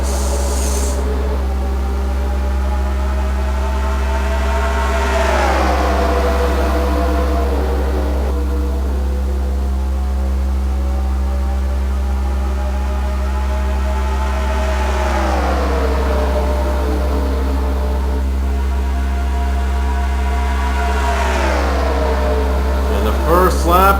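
Racing engines roar in a NASCAR video game as the field gets the green flag at Texas, a steady loud drone with rising and falling revs, heard under continuous race commentary.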